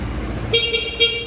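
Two short, bright horn toots from a 2014 Daelim VL 125 Daystar motorcycle sound in quick succession over a steady engine hum, close by and fairly loud.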